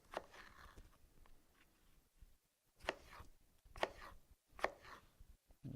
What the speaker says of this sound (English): we're going to make some lemon slices